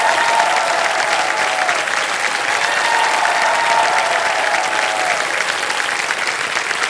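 Sustained studio audience applause on a TV quiz show set, loud, even clapping that holds steady from start to finish.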